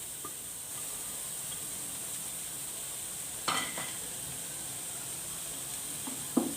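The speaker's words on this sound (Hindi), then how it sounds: "अब मैं अपनी कढ़ाई में ऐड कर दूँगी प्याज।" Chopped onions hit hot oil in a kadai, making a low, even sizzle with a sharper burst of stirring partway through and a clack near the end, with no talking.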